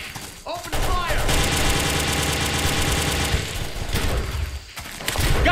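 Rapid sustained gunfire in the Delta Force Xtreme 2 video game, dense automatic bursts laying down cover fire, loud and continuous, with voices shouting over the shooting.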